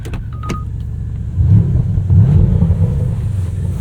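A Porsche Panamera GTS with a 4-liter twin-turbo V8 rumbles steadily from inside the car, then swells louder around halfway as the engine pulls harder, with no voices.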